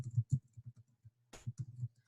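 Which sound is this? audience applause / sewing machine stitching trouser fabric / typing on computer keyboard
typing on computer keyboard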